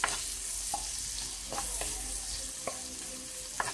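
Onions fry in a pan for ginataang susa, giving a steady, bright sizzle close by, with a few light utensil clicks as they are stirred.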